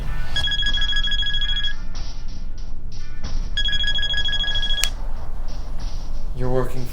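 A cell phone in a thriller film rings in two bursts of an electronic bell-like tone over a busy background of film sound, with speech-like sound mixed in.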